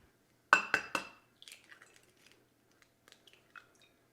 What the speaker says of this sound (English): let's go ahead and crack some eggs